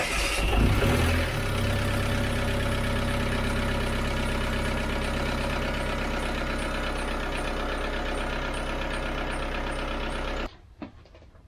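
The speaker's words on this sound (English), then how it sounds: "You probably hear pump running." An electric fuel pump runs in a TDI-swapped car as the engine starts and idles, a steady close mechanical hum and whine over engine rumble for about ten seconds before cutting off abruptly, with no talking.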